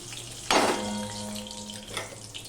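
Mustard oil poured into a hot pan bursts into a sharp sizzle that fades to a lighter crackle, with a faint clink of the pan afterward.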